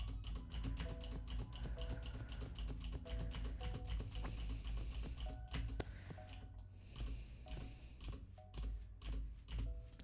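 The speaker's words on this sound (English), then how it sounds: "you'll kind of hear me smashing my keyboard a little bit" Rapid computer keyboard keys mashed during Stardew Valley play, a dense clatter of clicks running steadily throughout over game music, with no talk.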